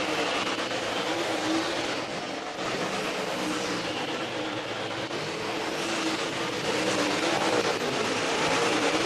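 Race cars running on the Thunderhill Raceway dirt track in Summerville, Tennessee, including the number 59 Journey Logging car, produce a constant, fairly loud engine roar that swells slightly toward the end, with no speech.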